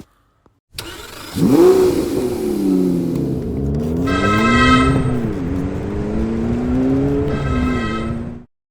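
A car engine in a chase scene revs hard and accelerates, its pitch rising and falling through several surges, with a loud close roar and bursts of high whine.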